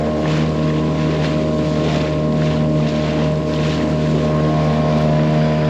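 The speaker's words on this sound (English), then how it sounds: "I don't know if you can hear us because of the outboard" An outboard motor drives an inflatable boat across Loch Etive in the Scottish Highlands, a loud, steady, droning engine hum with wind rushing over the microphone throughout.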